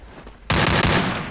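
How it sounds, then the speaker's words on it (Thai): A burst of rapid automatic gunfire from the Free Fire battle game breaks in loudly after a quiet moment and keeps rattling in quick repeated shots. "ตูยิงเลย"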